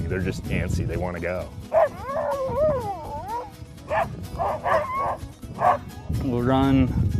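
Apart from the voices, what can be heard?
sled dogs howling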